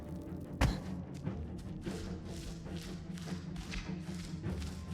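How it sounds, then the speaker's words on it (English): A muffled deep thud of an explosion in the video game Gollum hits once early, then a dense rumbling, roaring wash of game sound carries on steadily behind it. "There's an explosion"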